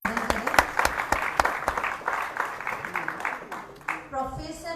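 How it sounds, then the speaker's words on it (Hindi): Audience applause at a Hindi-language Sunday function honouring political guests, with several sharp claps and a crowd clapping under a speaker's voice, fading toward the end. "कृपया जोरदार तालियों से उनका अभिनंदन करें।"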